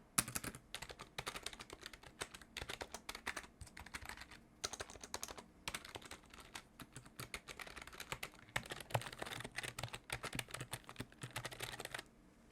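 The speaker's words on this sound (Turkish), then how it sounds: "İsterseniz gelin bir de size tuş seslerini dinleteyim." Soft, muted keys of a budget SteelSeries keyboard clatter in quick irregular bursts of typing, recorded up close with short pauses between runs.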